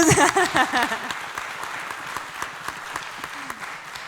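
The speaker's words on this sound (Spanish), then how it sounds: "Su aplauso, claro, claro que sí." A crowd applauds at a film industry panel in Mexico, loud at first and then thinning into scattered claps, with a voice faintly underneath near the start.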